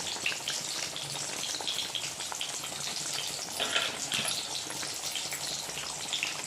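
Stuffed bitter gourds dropped into boiling oil, with a dense, steady sizzle and crackle close by that holds without a break throughout.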